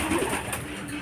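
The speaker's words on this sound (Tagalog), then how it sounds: "Ayan, yung ibon natin, mga kalapatids." Racing pigeons coming in at a loft during a club fun race, a brief, steady outdoor wash with soft cooing and bird calls mixed into the ambient noise.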